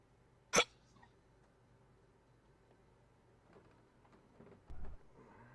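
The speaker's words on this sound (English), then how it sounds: "That's the first time I ever heard a hiccup on Mumble" A single short hiccup comes through a Mumble voice chat, sharp and brief near the start, followed by faint background noise and a later low muffled thump.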